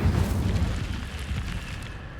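In the video game Hogwarts Legacy, an Incendio fire spell bursts out as a deep, rumbling whoosh of flame, loud and dense at first, then fading gradually over about two seconds.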